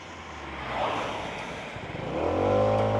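A Daytona Virtus 125 scooter (Longjia XDV 125) pulls away from a stop in traffic, its small engine droning steadily and then rising in pitch as it gathers speed, heard from the rider's position without talk.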